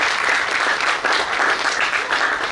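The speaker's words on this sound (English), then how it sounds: "Can we please have another round of applause for ma'am?" Sustained applause from a seminar audience after a nutrition and diet session, dense steady clapping at fairly even loudness throughout, with no voices over it.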